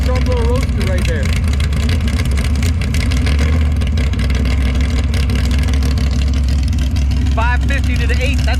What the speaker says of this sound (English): I didn't expect that guy to start his car right beside me